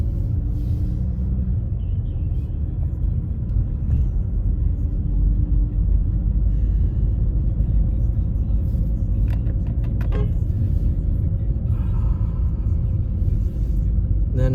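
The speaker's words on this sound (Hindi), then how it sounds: "अल्लाह करे गाड़ी हिल पे चढ़ जाए" A car engine hums in a steady low rumble from inside the vehicle as it climbs a hill on a snowy road in Birmingham during a snowstorm, with faint rattles and jingles over the drone.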